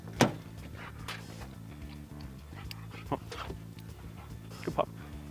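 Cato, a police dog, whimpers and yips in short bursts while searching outdoors, with panting and movement between the sounds and people speaking nearby.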